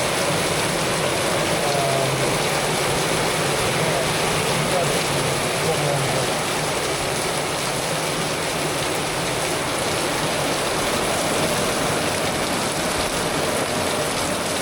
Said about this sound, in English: We're having a bit of rain.